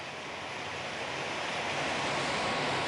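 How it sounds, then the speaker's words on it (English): An air nozzle inflating a bumper car tube, a steady broadband hiss of rushing air that swells slightly louder over three seconds, close and alone. "Only then can you use a standard air nozzle to inflate."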